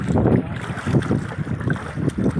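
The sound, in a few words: strong wind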